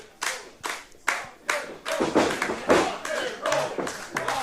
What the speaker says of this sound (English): You can hear the chants. You can hear the crowd.